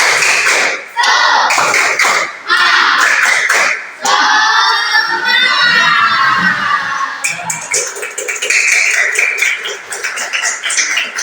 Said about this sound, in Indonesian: ice breaking dulu dengan tepuk tangan semangat